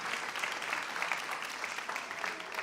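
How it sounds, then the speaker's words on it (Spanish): A youth congress audience claps steadily and densely throughout, a continuous wash of applause heard from within the hall without a break. "Fuerte aplauso a mis discípulos"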